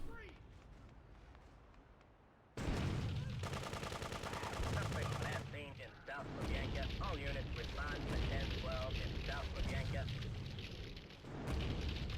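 Gunfire in the top-down game GTA 2: after a quiet start, loud sustained rattling bursts of automatic fire mixed with heavy booms and explosions, dense and continuous to the end.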